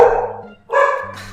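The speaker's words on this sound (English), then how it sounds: "I'm sorry, my dogs are being jerks." Pet dogs barking loudly and close by indoors in two sharp bursts separated by a brief gap, with no talking over them.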